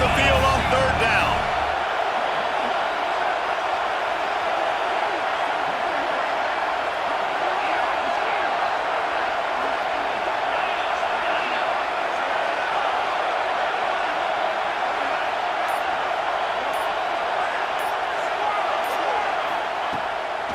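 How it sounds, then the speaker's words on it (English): A home crowd roars throughout a college football video game between Miami and Georgia, a dense, sustained stadium din under the play, with a sharp thump at the start. "Here comes this home crowd as the defense tries to get off the field on 3rd down."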